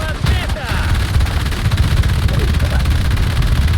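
Rapid, sustained gunfire from ground vehicles in the video game War Thunder, a loud continuous stream of close, dense bursts with no pause.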